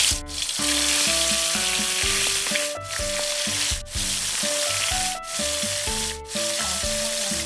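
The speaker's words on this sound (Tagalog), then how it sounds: "sakto naman may init na iniready ko mantika, start na tayo magprito." Seasoned food fries in hot cooking oil with a loud, steady sizzle, heard close up alongside background music with brief dips between phrases.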